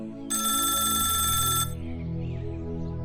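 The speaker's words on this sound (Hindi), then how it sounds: "तभी दरोगा कमलनाथ के टेबल पर फोन बजता है" A telephone on a police officer's desk in a village police station gives one continuous, bright, loud burst of bell ringing lasting over a second, then a low droning tone carries on after it.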